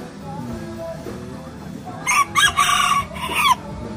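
A small serama rooster crows loudly and close, giving a few rapid bursts around the middle after soft clucking, with faint background murmur.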